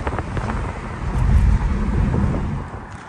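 Turbocharged N54 engine of a BMW E90 335i, fitted with an HKS blow-off valve, roars steadily at close range as the car drives, the rumble swelling midway amid wind and road noise.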